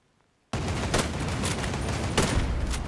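Sustained automatic gunfire in the tactical shooter video game Ghost Recon: Breakpoint, a dense rattling burst that starts abruptly after a brief quiet and continues loud and unbroken, with several sharper peaks, and no talk over it.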